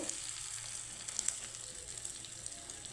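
A ladle of semolina batter sizzles in white oil with black mustard seeds, making a steady, close, hissing fry with a few small pops scattered through. No one speaks.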